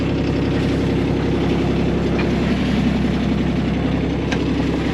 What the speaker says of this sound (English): He's got the diesel fired up.